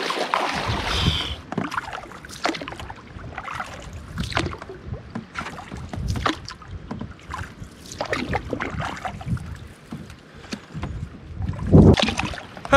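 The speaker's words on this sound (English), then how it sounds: "a man paddling in the wilderness in his underpants" Canoe paddle strokes dipping and pulling through water out in the wilderness, a steady series of splashy swishes at close range, with light wind noise on the microphone and no talking.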